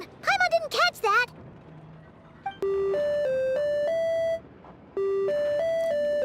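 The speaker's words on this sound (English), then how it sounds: "looks like I got a phone call real quick." A phone rings in the Genshin Impact video game with two bursts of stepped electronic melody tones, each lasting a couple of seconds with a short pause between. Brief voiced game sounds come just before them.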